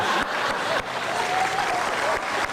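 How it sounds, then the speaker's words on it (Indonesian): Studio audience at an Indonesian television talk show applauds steadily, a dense wash of clapping that holds throughout with slight dips in level. "Sekali lagi tepuk tangan, luar biasa"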